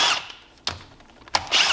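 A tool loosens the 13 mm cylinder head bolts on a Seadoo 951 engine in a pattern, with a short whirring burst, two sharp clicks or clanks and then another whir, all close by.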